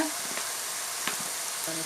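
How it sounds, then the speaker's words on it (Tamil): Eggplant sautéing in a pan for sambar, a steady bright sizzle with a few soft stirring scrapes and clicks, close and continuous with no voices. "கத்திரிக்காய் போட்டு கொஞ்சம் நல்லா லைட்டாக நம்ம வதக்கி எடுத்துக்கலாம்"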